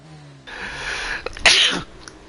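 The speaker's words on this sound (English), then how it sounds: "That was a sneeze there." A single sharp sneeze bursts out mid-clip over quiet background hum from a racing game, preceded by a brief intake of breath and trailing off quickly.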